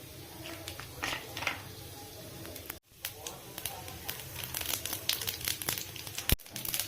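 Mustard seeds and chana dal splutter in hot oil, a close crackling, popping patter with bursts of sharp spits over a brief pause, while a person talks over it.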